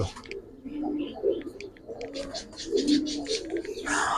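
Racing pigeons in a loft give soft, low cooing and a few faint chirps, with rustling in the background and no one talking.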